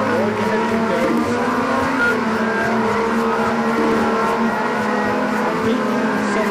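A race car engine in the video game TrackMania roars steadily throughout, a sustained high whine with shifting pitch, loud and continuous with no talking.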